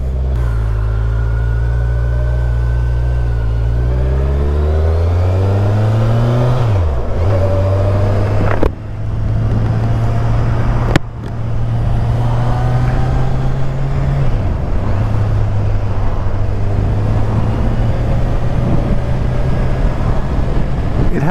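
A 2018 Kawasaki Z1000SX motorcycle ridden on the road, its engine droning loud and steady as revs rise and fall through gear changes.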